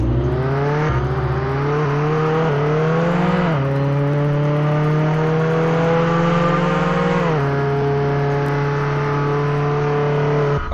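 A car engine in a video game, loud and close, revving through repeated rising pitches with gear changes and a steady drone between them.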